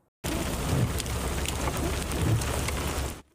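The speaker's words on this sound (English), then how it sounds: "Swirling clouds and spitting hail tore through a rural area between Didsbury and Carstairs" A hail storm with thunder over rural Alberta between Didsbury and Carstairs during a tornado: dense, loud pattering and low rumble filling a brief three-second burst that starts and stops abruptly.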